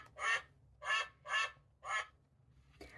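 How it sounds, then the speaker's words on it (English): Electronic duck quacking from a children's sound book, four evenly spaced quacks in a row, close and clear against a faint hum, with a brief extra sound at the end. "No, it's the duckies. Quack, quack, quack."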